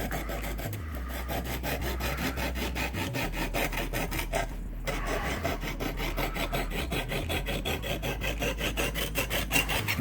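A knife blade drawn along a coarse sharpening stone, close, rhythmic rasping strokes repeating steadily in a quick back-and-forth pattern with no one talking.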